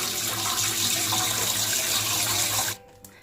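Tap water gushes steadily into a basin used for washing fish, a loud continuous splash that cuts off abruptly near the end.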